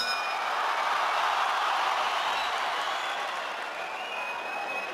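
A boxing arena crowd applauds fighter Carl Frampton with dense, sustained clapping and cheering that holds steady and loud throughout, a broad wash of many hands with no clear voices on top.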